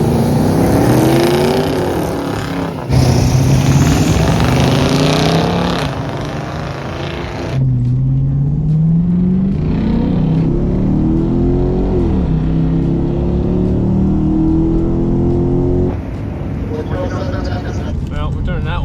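A $3,500 car on a drag race run at Drag Week roars loudly nearby, its engine pitch climbing hard through the gears with sharp breaks at each shift, while people talk over it.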